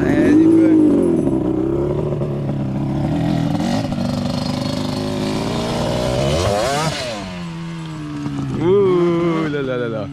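A Yamaha Banshee 350 quad's two-stroke engine revs loud and close in a field during a wheelie attempt, holding a buzzing drone before surging sharply near the end with a rising wail.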